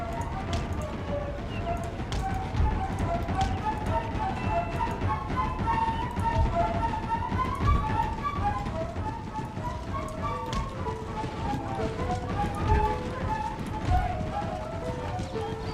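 Cavalry horses moving in the strategy video game Empire: Total War: a continuous, busy clatter of many hooves with battlefield ambience, while someone talks over it.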